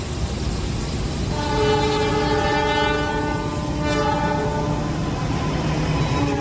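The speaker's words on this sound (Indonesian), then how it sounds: "Ada yang berjalan langsung nih teman-teman. Kereta api Argo Merbabu kayaknya." The Cakrabuana passenger train from Purwokerto to Gambir passes in Indonesia, sounding its horn in a long, loud tone over the constant rumble of the wheels and the cars rolling by close at hand.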